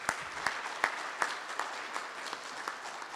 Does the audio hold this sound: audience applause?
yes